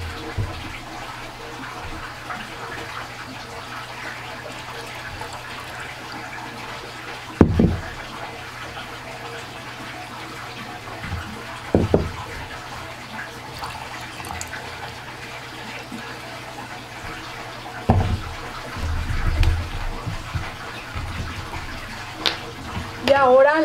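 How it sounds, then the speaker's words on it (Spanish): A quarter cup of orange rum and a quarter cup of tequila are poured for a homemade holiday cocktail. Faint liquid trickles come in short, separate pours over a quiet background hum. "vamos a agregar un cuarto de taza de ron de naranja, un cuarto de taza de tequila"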